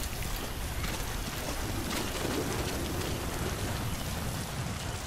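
Heavy in-game rain from Metal Gear Solid V: The Phantom Pain, a constant dense hiss of downpour with a low rumbling undertone, steady and enveloping with no voices.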